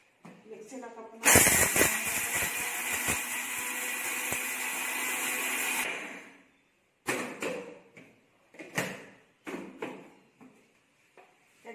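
An electric mixer grinder whirs loudly for about five seconds while grinding mouth-freshener spices with star anise in its cup, then stops; a string of shorter rattling bursts and clatters follows.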